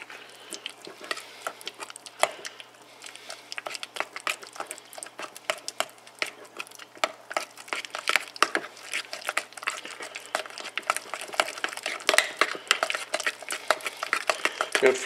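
Peanut butter and mashed banana being stirred together in a bowl for sandwiches, giving a steady run of soft, sticky scraping and tapping strokes close by, continuous throughout with no talking.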